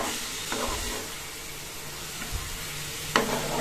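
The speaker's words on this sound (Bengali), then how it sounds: "দিয়ে শাকটাকে একটু ভাজা ভাজা করে নামিয়ে নেব।" Mustard greens frying with green chili in a home kitchen pan, a steady close sizzle and hiss with occasional stirring scrapes and a couple of brief louder clatters, no voices.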